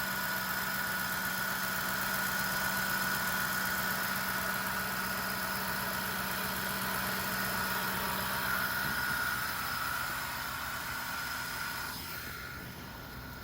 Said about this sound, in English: And she sounds really good for an old truck.